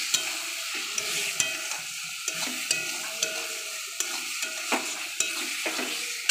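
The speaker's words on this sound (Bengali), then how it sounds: "আবার একটু নাড়ব।" Spices with ground cumin fry in a pan for a Bengali dish while a utensil stirs them, soft sizzling punctuated by a series of regular scraping strokes, close and without talk.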